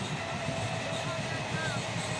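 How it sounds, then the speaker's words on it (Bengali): A train passes close to a bypass road running beside the railway line, a steady, loud broadband rumble with rolling wheel noise that continues evenly throughout. "এই ট্রেন চলে এসেছে, দেখতে পাচ্ছ।"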